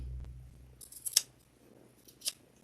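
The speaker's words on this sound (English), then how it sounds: "Hopefully I didn't cut my binding." Scissors cutting fabric binding on a quilted mug rug, a few crisp close snips, two of them sharp and distinct, after a brief low rumble in an otherwise quiet room.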